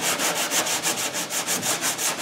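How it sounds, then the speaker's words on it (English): Sandpaper rubs rhythmically back and forth across a fiberglass wide-body kit bumper, about eight even strokes in a couple of seconds, close and steady with no talk. "we don't want to sand too much because we don't want to deform the fucking wide body kit or the front bumper"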